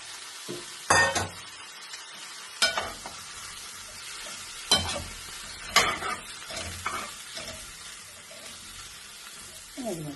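Tomatoes tipped into a frying cauliflower, carrot and potato gravy, followed by a handful of sharp scraping stirs against the pan over a low background sizzle.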